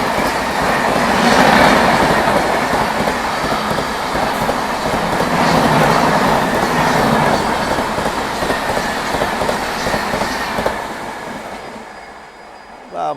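The Telangana Express of South Central Railway, bound for New Delhi, roars past at high speed with a loud, continuous rush of wheels and rattling cars that eases slightly near the end.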